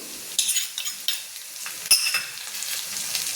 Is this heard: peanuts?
yes